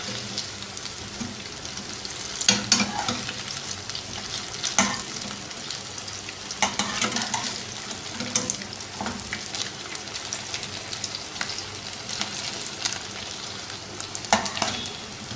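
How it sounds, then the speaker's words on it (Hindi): Mutton chops fry in an uncrowded pan over medium heat, giving a steady, dense crackling sizzle with occasional louder pops throughout and no voices. "मीडियम हीट के ऊपर इसको फ्राई करेंगे।"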